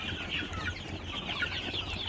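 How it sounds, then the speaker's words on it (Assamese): Chickens cluck and fuss inside a poultry farm shed, a busy chorus of short calls and occasional wing flaps at close to moderate distance. "মই আপোনাক এটা মুৰ্গী দেখাম আপোনালোকক, এইটো চাওক"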